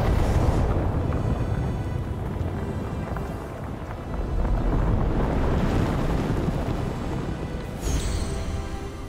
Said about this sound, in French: Alors qu'un vent glacé sifflait dans ses oreilles, Phoenix contempla l'imposant sommet.